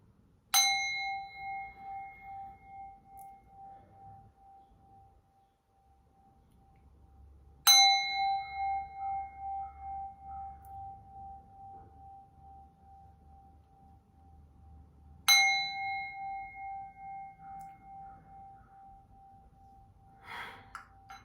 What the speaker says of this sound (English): I'm going to energetically cleanse this space with my heart chakra sound bowl